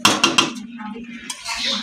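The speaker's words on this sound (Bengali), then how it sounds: "এক হাতে লাড়তে গেলে কড়াই পিছলে যায়।" Curry being stirred in a wok, with several sharp metallic clanks of spoon against pan, then softer scraping and a faint sizzle while someone speaks briefly.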